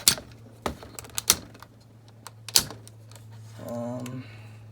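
Plastic parts of a Transformers G1 Apeface Headmasters toy snapping into place as its legs are moved: a few sharp, close clicks spaced irregularly, followed by a faint creaky rattle.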